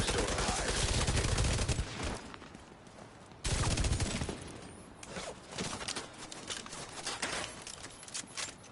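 Heavy gunfire in The Division 2's Battle for Brooklyn DLC: dense, loud bursts of automatic fire in two waves, each tapering into scattered shots and shell-like clatter, with no talk.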